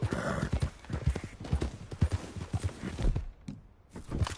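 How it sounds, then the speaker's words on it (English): Horse hooves clip-clop in a quick, steady rhythm in Red Dead Redemption 2, close and prominent, with a short pause near the end before the hoofbeats resume. "that's a nice-looking horse you have there"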